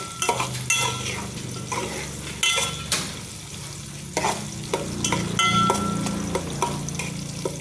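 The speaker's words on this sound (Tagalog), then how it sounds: "Ato na pong apilo gisa ning paminta liso" Black peppercorns sautéing with small pieces of pork and liver in a pan, a close sizzle broken by frequent clacks and scrapes of a spatula against the pan, with no talking.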